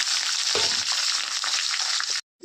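Onions and green chilies hit hot oil with curry leaves, a loud, close, continuous sizzle with a brief stir-like rustle, cutting off abruptly near the end.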